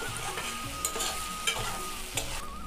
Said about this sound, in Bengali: আমি খুলে এবারে নেড়ে দেব